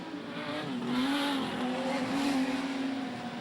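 Modified production race cars roar past at Gympie Speedway in a steady, loud engine drone, a high whining pitch sliding up and down as the pack streams by on the track.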